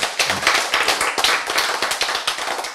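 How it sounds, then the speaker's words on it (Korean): An audience at a health lecture on diet gives brief applause, a quick run of claps close together and fairly loud. "박수."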